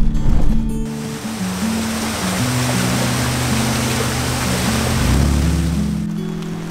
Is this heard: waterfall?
yes